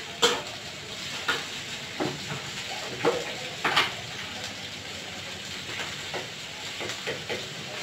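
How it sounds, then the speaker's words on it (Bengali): Shrimp sizzling in a hot pan as they are added to lightly fried bottle gourd peel, with a steady frying hiss and several sharp crackling bursts and stirring clatters, moderately close. "দুপাটা চিংড়ি মাছ দিয়ে দিচ্ছি।"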